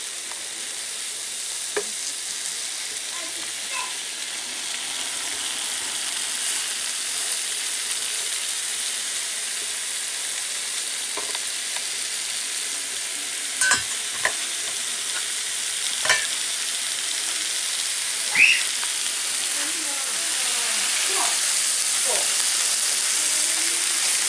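Thick meat slices frying on a small tabletop plancha, a soft continuous sizzle with scattered faint pops and clicks, moderately distant and steady.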